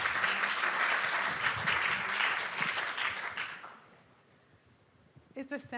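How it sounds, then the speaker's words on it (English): Audience at a startup pitch night and graduation ceremony applauding, loud sustained clapping that fades away near the end before a voice begins speaking. "Please give them a round of applause."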